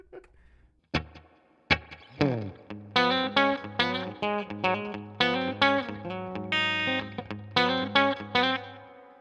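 Acoustic guitar notes plucked through digital delay and reverb effects, a run of bright picked tones with echoing repeats and washy tails, a few sharp attacks at the start followed by a steady melodic sequence.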